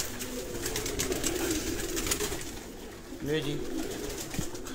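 Pigeons in a loft cooing nearby, low rolling coos that repeat and swell, with someone speaking briefly over them.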